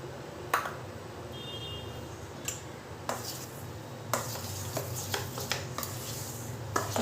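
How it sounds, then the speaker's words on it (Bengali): Semolina being added to ripe mango pulp for mango bora and mixed in, giving soft scattered clinks and scrapes of a spoon against a bowl, with a few sharper taps, close and fairly quiet with no talking. "এরপরে এই আমের পাল্পটার মধ্যে আমি সুজিটা দিয়ে দেবো।"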